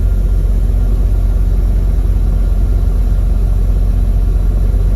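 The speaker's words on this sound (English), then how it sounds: "I put this truck in drive." A J.B. Hunt semi truck engine running after being put in drive, a loud, steady low rumble that holds constant throughout with no voices.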